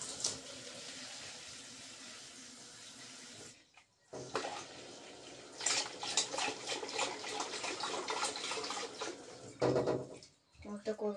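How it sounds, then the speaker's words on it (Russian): Warm water pours from a tap into a sink used for cleaning snails, a close, continuous rushing splash that briefly stops twice. "Налью им сейчас тепленькую водичку."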